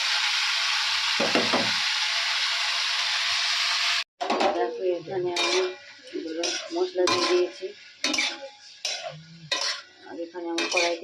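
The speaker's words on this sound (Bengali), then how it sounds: "এখন আমি ভাজাটা বসাবো ভাজাটা বসিয়ে দিই" Hot oil gives a strong, steady hiss of frying for several seconds. Then it cuts to a run of close metallic clanks and scrapes of utensils and pans, in uneven bursts.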